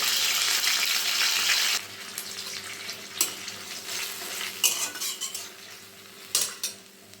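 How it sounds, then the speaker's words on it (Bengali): Spice paste goes into a pan of frying vegetables with a loud burst of hissing sizzle, which then eases into quieter crackling broken by a few sharp scrapes and clinks of a utensil against the pan. "এগুলো আমার ভাজা ভাজা হয়ে গেছে এবার দিয়ে দেব পেস্ট করে রাখা মশলাটা"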